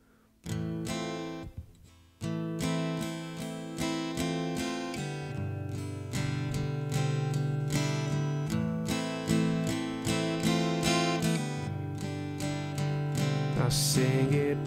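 Acoustic guitar, played left-handed, strums the intro and first verse of a song, rhythmic chord strokes ringing out clearly and building slightly in loudness, with no voices.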